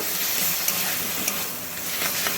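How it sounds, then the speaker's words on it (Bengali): Beans and tomatoes frying together in a pan, a dense continuous sizzle up close with a few light clinks of stirring. "শিম আর টমেটো এগুলো সব একসঙ্গেই এর মধ্যে আমি দিয়ে দিলাম দিয়ে খুব ভালো করে এর সঙ্গে নাড়াচাড়া করে মিশিয়ে নেব"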